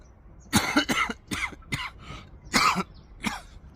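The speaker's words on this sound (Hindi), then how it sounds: "पता नहीं खांसी कब जाएगा" A person coughs close to the microphone in a series of about six harsh bursts with throat clearing, grouped in two clusters with short pauses between.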